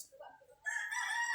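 A rooster, a gamecock kept for sparring, lets out a loud crow after some soft, scattered clucking, the call held strong and bright to the end.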